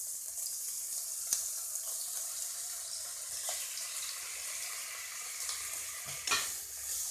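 Chicken is stir-fried lightly in a pan for egg chicken chowmein, with a steady hiss and sizzle under occasional scrapes and clinks of stirring, close and without talk.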